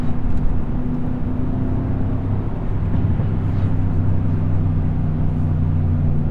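A 2017 Mercedes C63S engine at a crawl makes a steady, loud, low droning rumble from inside the car, unbroken and without talk.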